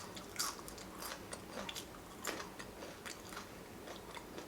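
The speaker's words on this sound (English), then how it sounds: "Let's try these Cajun fries." Crunchy bites and chewing of Popeyes Cajun fries, close to the mic, in a quick irregular series of crisp crackles over a quiet background, with no talking.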